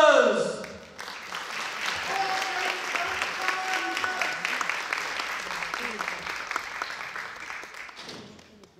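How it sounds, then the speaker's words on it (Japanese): Crowd at a winter YOSAKOI dance event in Tagajo applauding before a team's performance, a sustained, dense clapping that swells after a brief voice and fades toward the end, with faint music tones beneath. "皆様の熱い拍手"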